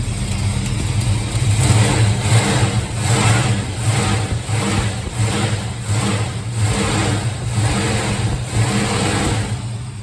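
A rebuilt 1971 Plymouth engine with a slight header gasket leak running steadily at a loud, close rumbling idle with a pulsing rhythm, no talk.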